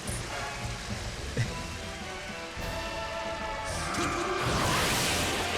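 Rain and thunder in the video game Legend of Zelda: Skyward Sword, a steady wash of rainfall with a sudden crash partway through and a swelling roar toward the end.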